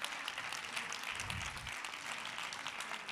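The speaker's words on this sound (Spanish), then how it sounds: "se merecen un fuerte aplauso" Audience applause for speakers at a teachers' experience-sharing session on fanzines, a fairly faint continuous patter of clapping that holds throughout the short stretch.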